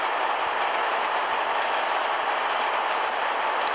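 Train wagons roll along rails in Trainz Simulator, a steady bright hiss-like rumble that stays constant and close throughout, with no talk.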